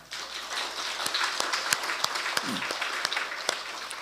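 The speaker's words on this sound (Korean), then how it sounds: "박수 한번 해줄까요?" A church congregation claps for its choir after a Sunday service: a broad, sustained round of applause with a few sharper individual claps popping out, steady from start to finish, a murmur of voices faintly underneath.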